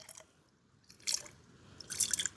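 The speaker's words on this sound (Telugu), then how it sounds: "బొంగులన్నీ వాటర్తో అయితే క్లీన్ చేసుకుందాం అండి కడిగేసుకుందాం శుభ్రంగా" Quiet drips and splashes of water, with two brief louder bursts of pouring and sloshing as bamboo tubes are rinsed nearby.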